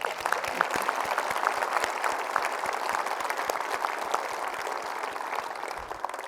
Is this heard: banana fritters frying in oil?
no